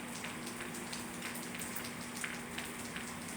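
Mild spring downpour mixed with small hail, a steady even patter of drops and light pellets hitting surfaces nearby, with a faint constant low hum underneath and no talking.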